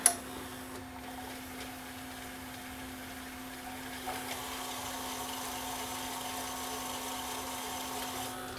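A Samsung SV 5000 system-conversion VCR, under repair, runs in full fast forward, giving a steady mechanical whir with a faint tonal hum and light ticking that holds evenly throughout, with a soft rise in level partway through.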